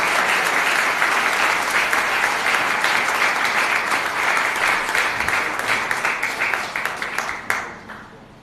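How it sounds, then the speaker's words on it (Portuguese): A church congregation at an inauguration service applauds steadily to welcome a pastor, dense clapping holding strong for several seconds before thinning out and stopping near the end. "Vamos dar um aplauso ao Senhor pela vida dele"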